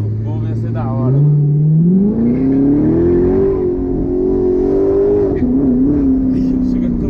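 A Corvette accelerating with its tires squealing: a loud, close engine roar that climbs steadily in pitch and then holds a high, sustained note, while people talk over it in Portuguese.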